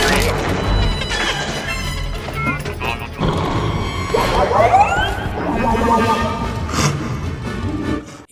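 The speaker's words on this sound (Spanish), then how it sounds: "este nuevo droide que no vuelve a aparecer en toda la cinta después de esta secuencia tiene un idioma específico" A new Star Wars droid speaks its own invented language in film sound design: bursts of electronic chirps and warbling sweeps sit within a loud, dense mix of crashes and noise.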